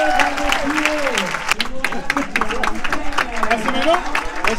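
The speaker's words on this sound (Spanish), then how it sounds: "rebem amb un fortíssim aplaudiment a Omar Sy i Mathieu Vadepied" A film festival audience in Barcelona gives loud, sustained applause and cheers to welcome arriving guests, a dense wash of clapping throughout with a presenter's voice speaking over it.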